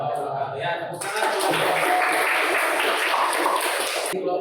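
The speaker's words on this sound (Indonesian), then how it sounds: "Ya, tepuk tangan." A classroom group of students applauds after a presentation, dense broadband clapping swelling from about one second and holding steady and loud for several seconds before cutting off, with faint voices underneath at the start.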